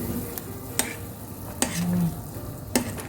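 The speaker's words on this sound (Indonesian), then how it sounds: "Kita biarkan sampai mendidih, matang dan empuk." Selat solo stew simmers in a pot while a utensil stirs it, giving a steady low bubbling and sizzle. Sharp metallic clinks against the pot edge sound three or four times, close by, and nobody talks.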